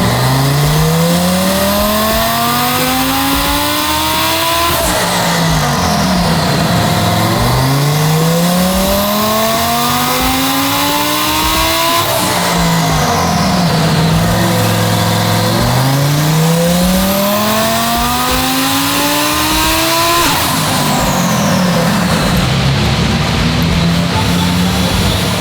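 A 1,400 hp twin-turbo Lamborghini Huracan STO engine revving loudly under boost, rising in repeated sweeping pulls with brief drops between, aggressive and close with no talking.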